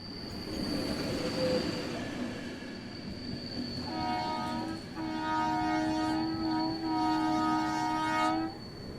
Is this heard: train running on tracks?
yes